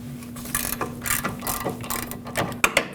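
A hand socket ratchet with a 13mm socket turning the caliper bracket bolts on a 2013-2019 Ford Escape rear brake, close rapid clicking strokes in short bursts followed by a couple of metallic knocks.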